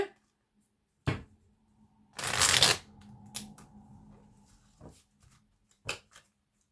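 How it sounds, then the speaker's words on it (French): Tarot cards are reshuffled in a quiet room, heard as a few sharp riffling bursts and soft papery shuffles separated by brief pauses. "Je vais essayer de remélanger un peu."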